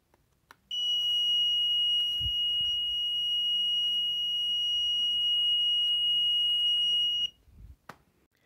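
A LaserLiner contactless voltage detector gives one loud, steady electronic beep, a continuous pure tone lasting about six and a half seconds before cutting off, with faint handling noise at either end.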